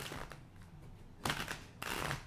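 A deck of playing cards riffle-shuffled close up, with two short bursts of brisk fluttering card riffles after a quieter stretch of faint rustling.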